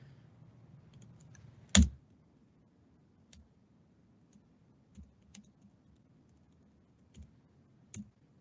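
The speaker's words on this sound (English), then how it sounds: "I can type, I promise" Computer keyboard typing heard as sparse, faint clicks spread over several seconds, with one louder knock near the start and long quiet gaps between keystrokes.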